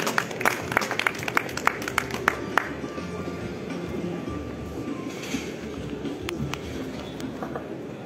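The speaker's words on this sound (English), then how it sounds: "So with a big round of applause, I would like to invite him on stage." Scattered clapping from an audience greets a guest invited onto the stage at the IIJS Signature 2024 jewellery show launch, sharp claps early on thinning into a low murmuring crowd and room noise.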